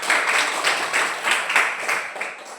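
Students in a classroom clap together for a classmate during a lesson, giving a short burst of dense, moderately loud applause that fades slightly toward the end.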